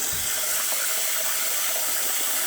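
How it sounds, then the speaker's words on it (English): Rice being rinsed under running water, a steady, close rush of water with faint splashing throughout, no voices. "we'll rinse it well with water"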